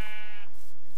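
A sheep in Minecraft gives one short, nasal bleat with a wavering harmonic tone, fairly close and clear, then fades into quiet background.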